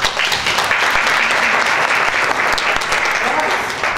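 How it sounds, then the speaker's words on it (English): Loud, sustained applause from a class audience during a lecture session, many hands clapping close and dense for several seconds without a break. "So round of applause"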